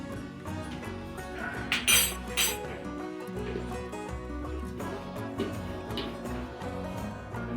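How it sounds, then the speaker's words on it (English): A spoon stirs a salmon patty mixture in a bowl, giving soft, scattered clinks and scraping at close range over a steady background hum. "I just stir again."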